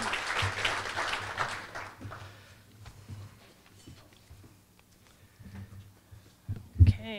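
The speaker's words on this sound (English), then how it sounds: "Big round of applause for our new board members." Applause for new board members at a chamber of commerce luncheon, a fairly loud burst of clapping at first that fades to scattered claps and room noise, with a few closer thumps near the end.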